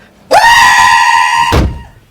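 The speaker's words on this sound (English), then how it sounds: "I can finally scream." A loud, sustained scream from a person, starting abruptly, holding a steady pitch for over a second, then cutting off into a brief low thump and fading ambience, heard during a solo motorcycle camping outing.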